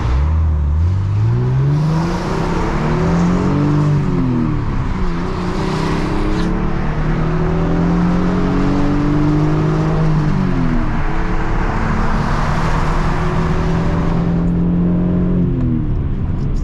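Manual Lexus SC300 with a 2JZ-GE engine and its muffler removed accelerating hard, loud raw exhaust climbing in pitch through several gears with brief drops at each shift, heard steadily from inside the car.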